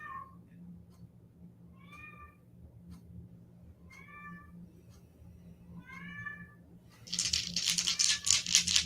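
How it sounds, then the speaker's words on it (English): Indoor house cats meow four times at roughly even intervals, the calls fairly close but soft over a low steady hum, followed by a burst of crinkly rustling at the end. "Don't mind my cats."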